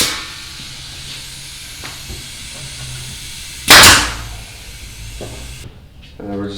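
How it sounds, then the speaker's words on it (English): A pneumatic nail gun fires once into a wooden nightstand: a single sharp, loud burst stands out against low workshop background noise and is followed by quieter handling sounds. "And just hit it with the nail gun."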